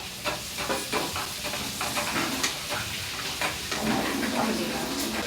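Tomato and onion fry in a pan for potato masala, a steady sizzle and hiss with occasional stirring clatters close up.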